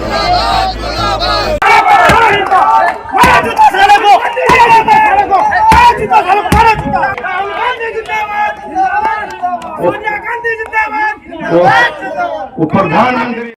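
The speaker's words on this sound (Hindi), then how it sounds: "नरेंद्र मोदी मुर्दाबाद" A farmers' protest crowd chants slogans, loud massed voices shouting together in rhythmic bursts, close and dense, with clattering knocks cutting in.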